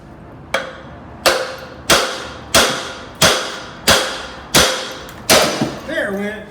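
Eight sharp metallic strikes land at a steady pace as a hammer drives a pry bar into a badly rusted part on a Baja Warrior minibike, ending in a brief rattle.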